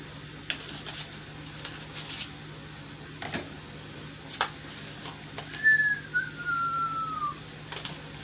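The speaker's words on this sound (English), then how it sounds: "I like to whistle while I season." A person whistles a short gliding tune while seasoning food in a home kitchen, a thin clear whistle sliding down in pitch near the end, faint against quiet room noise with a few soft taps and clicks.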